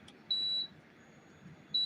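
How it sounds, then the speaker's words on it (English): Two steady high electronic beeps sound indoors, each lasting about a third of a second and spaced over a second apart, clear against a quiet room. "what is that beep?"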